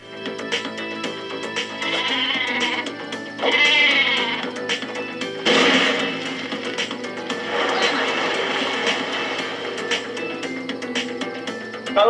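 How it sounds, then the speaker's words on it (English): Cartoonish sheep bleats from the Worms video game ring out over busy game effects and mechanical clicking, with a sharp burst midway as the sheep weapon digs through terrain. "I like how I use the sheep to dig out."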